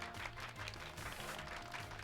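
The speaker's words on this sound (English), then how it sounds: "Give Pikachu a round of applause, everyone." Applause from a crowd, a steady wash of many hands clapping that fills the short moment at a moderate distance, with no voices over it.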